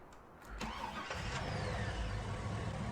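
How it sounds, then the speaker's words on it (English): A pickup truck engine cranks and starts in a farming simulator, then settles into a steady mid-pitched idle, close and continuous. "Go back over here and grab our handy dandy pickup truck"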